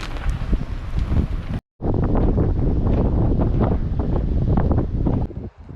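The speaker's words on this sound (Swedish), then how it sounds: "Lite häftigt att vara här när det blåser så mycket faktiskt." Strong gusting wind on the Cliffs of Moher sea cliffs in Ireland buffets the microphone with a loud, rough roar, cutting out briefly near the start and fading slightly at the end.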